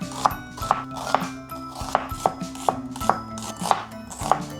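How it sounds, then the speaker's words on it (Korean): Steady knife strokes slice a halved onion into thin strips on a cutting board, about eight crisp evenly spaced chops close up with no talking. "약간 채 썰어 주겠습니다."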